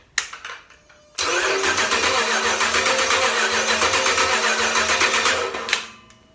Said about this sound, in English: Unfortunately, I've got a serious lack of internal combustion events going on, even with the reprogrammed computer.